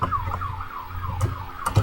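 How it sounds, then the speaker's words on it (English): A police siren wails, rising and falling repeatedly, fairly faint and distant as if heard from outside. "If you hear some sirens in the background, there's a whole lot of police cars downstairs."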